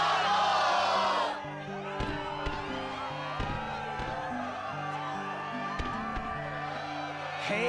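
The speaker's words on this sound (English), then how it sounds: "Yes, the crowd is fired up" A video game crowd cheers at the Struggle tournament in Kingdom Hearts II, a broad continuous roar beneath looping background music, with a loud burst at the start easing into a steadier crowd bed.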